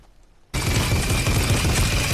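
Automatic shotgun fire in a video game, a sudden loud burst of rapid, booming shots that starts abruptly after near silence and keeps pounding.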